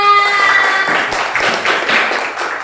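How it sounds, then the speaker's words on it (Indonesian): A classroom group claps briefly after a student recites a Quran surah, a short burst of scattered handclaps following a fading tonal voice at the start. "Kasih tepuk tangan."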